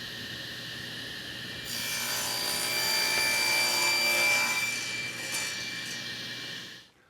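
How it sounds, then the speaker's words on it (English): A poplar guitar neck blank is cut to 34 inches with a power saw, which rises into a bright, sustained cutting whine over a few seconds and then winds down. "First thing we're going to do is cut this piece to length to 34 inches."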